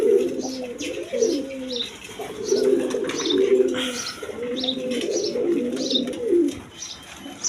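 Several pairs of high-flying Giribaz pigeons coo in repeated rolling phrases, close and fairly loud, with faint chirps and occasional wing flutters in the background.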